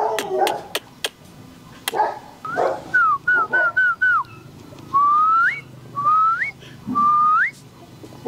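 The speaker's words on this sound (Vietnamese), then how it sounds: "Sủa dọa đấy. Ghê gớm quá." Dogs barking and yipping in a yard in Hanoi, sharp close barks at first, then rising whistled calls and whimpers in an uneven, repeated rhythm.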